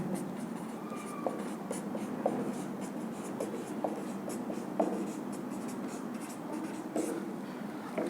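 Chalk or marker scratching out a vector equation on a classroom board, soft strokes and tapping at irregular intervals, quiet and close.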